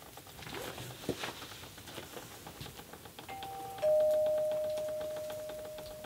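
A doorbell at the house next door to an old Alpine mountain farmhouse rings once with a sustained electronic two-tone chime that fades slowly, after a stretch of shuffling and light tapping noises.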